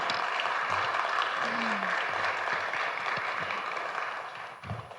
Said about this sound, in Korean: 우리 선생님들 위해서 박수 한번 더 해주시겠습니다